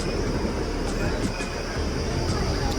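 Continuous low rumble and hiss of a train at Muthalamada railway station, Palakkad, steady throughout with no clear pauses.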